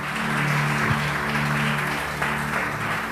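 Steady, dense applause from a large church congregation at an evening service, filling the whole stretch, with a low musical hum underneath.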